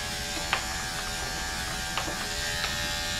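Electric hair clippers fitted with a 1 guard buzz steadily up close while cutting a short haircut at the back of the head, a continuous hum with a few faint clicks.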